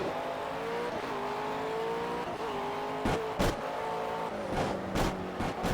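A McLaren 12C GT race car in the Project CARS racing game revs and accelerates through gear changes, its engine note climbing and dropping repeatedly, loud and steady with sharp bursts near the end.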